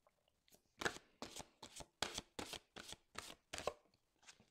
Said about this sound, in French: on va maintenant tirer une carte conseil des anges de l'amour